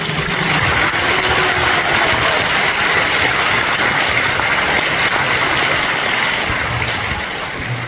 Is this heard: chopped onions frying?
no